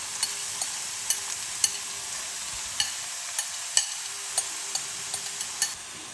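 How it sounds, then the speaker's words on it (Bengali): Grated carrot sizzles in a pan, a constant close frying hiss broken by scattered sharp clicks and taps as a spoon stirs it. "এই গাজরটাকে একটু ভালো করে আমি ভাজবো।"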